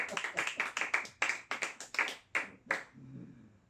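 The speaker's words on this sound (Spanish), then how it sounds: "Démosle un aplauso al Señor." A congregation at a Spanish-language church service claps in a burst of distinct, fairly quick hand claps. They come roughly every quarter second, then stop abruptly, leaving a faint murmur of the room.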